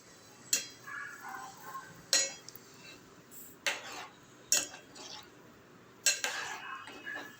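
Salt and chili being stirred into a Telangana-style taro curry, with repeated light metallic clinks of a spoon against the pot at irregular intervals, close but soft.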